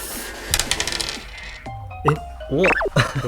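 Small dice tumble and clatter onto a hard surface in a few quick bursts of clicks during a game of rolling for chord progressions, close and fairly quiet, with brief tonal sounds between the rolls.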